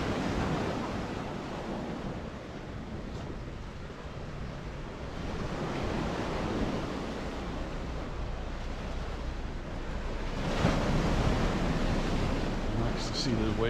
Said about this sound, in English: Nice to see the waves smashing against the rocks and splashing up.